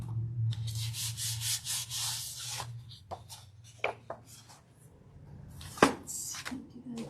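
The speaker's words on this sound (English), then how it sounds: "Just pulling off the leftover paint off the brayer on that one" An acrylic-paint brayer rolls over paper to lift off leftover PaperArtsy paint on a gel printing plate, making several close, scratchy rubbing passes with brief taps and pauses between strokes.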